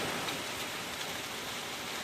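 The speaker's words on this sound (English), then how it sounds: "Old John Deere's getting rained on." Steady rain pouring down on an old John Deere lawnmower outdoors, a continuous dense hiss of drops drumming on the machine and ground with no voices.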